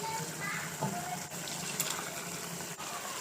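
Shrimp go into a hot spice mix in a pan and sizzle with a steady, soft, hissing crackle throughout, fairly quiet and continuous with no clear talk over it.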